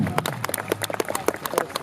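An outdoor audience at a military museum opening picnic claps for a knights' reenactment troop, a brisk patter of scattered hand claps lasting a couple of seconds.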